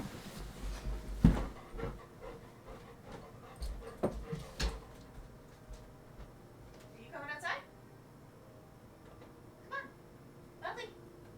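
A dog whimpers and pants close by indoors, with soft yips and whines in short bursts among background clatter and occasional knocks.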